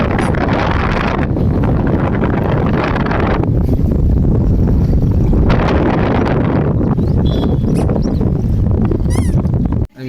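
Strong wind by a temple lake buffets the microphone in loud rumbling gusts that ease and return, with faint sounds of water and activity behind.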